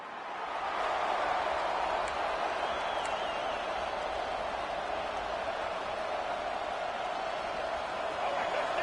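A steady, dense roar from a stadium crowd at a college football video game against the Florida Gators fills the whole stretch evenly, loud and constant, with no voices standing out.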